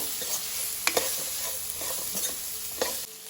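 Mixed vegetables for a korma frying in a pan, a constant close sizzle broken by several sharp scrapes and clinks of a spoon stirring.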